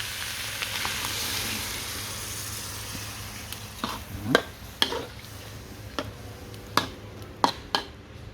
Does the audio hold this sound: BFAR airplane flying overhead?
no